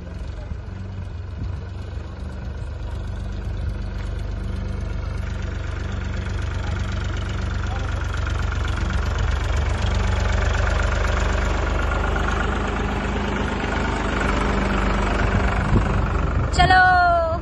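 A tractor engine runs with a steady, heavy low rumble and a slight knock throughout, loud and close as if riding aboard, with voices talking over it.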